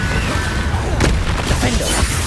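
Blasting-spell explosions in a Hogwarts Legacy battle, dense booming bursts and crashes layered over a loud, rumbling game soundscape, with a sharp blast near the middle.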